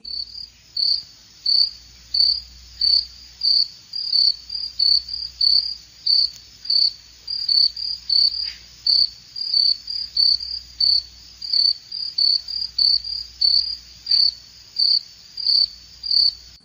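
Crickets chirping in steady repeated bursts, a high pulsing trill recurring roughly every half second for the whole stretch, clear and alone over a faint low hum.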